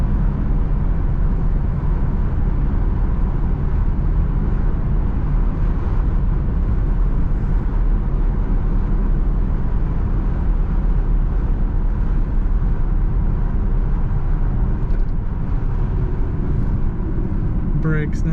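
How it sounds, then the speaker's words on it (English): A 2013 Chevrolet Camaro LT Convertible accelerating, its engine a steady broadband rumble heard from inside the car, continuous and fairly loud throughout with road and wind noise mixed in. "Accelerates nicely."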